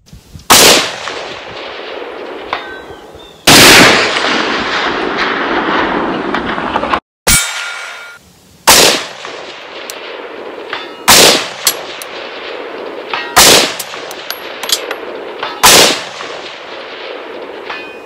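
A PSA AR10 rifle chambered in 6.5 Creedmoor fires AAC ammunition outdoors: roughly seven or eight loud, sharp reports spaced a few seconds apart, each followed by a brief ringing decay, with no talking.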